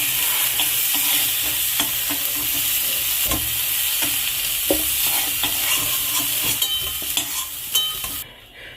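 Broccoli frying in a pan while being stirred, a continuous bright sizzle broken by frequent scraping and clinking stir strokes, close and fairly loud, then cutting off abruptly near the end.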